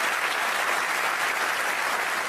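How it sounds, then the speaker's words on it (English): An audience at the world premiere of the Lotus Eletre SUV claps in a short, dense burst of applause from a crowd, steady and moderately loud throughout, with no voices standing out. "let's give him a big round of applause"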